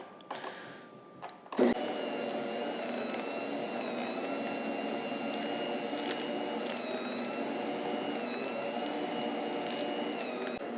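A stand mixer steadily kneads cinnamon roll dough, its motor whirring at an even, continuous level for several seconds after a short quieter start, with no talking.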